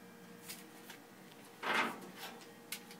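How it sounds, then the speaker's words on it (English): A clothes dryer's lint trap being pulled out of its slot: a single faint, brief sliding scrape in the middle, surrounded by a few soft clicks and taps in an otherwise quiet room. "Empty your lint trap before every use."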